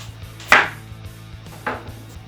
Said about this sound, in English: The onion is peeled by layer with the help of a knife.